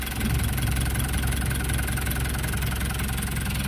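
A Mitsubishi Canter truck's 4D35 diesel engine idles steadily up close, a loud, even rumble with rhythmic knocking pulses throughout.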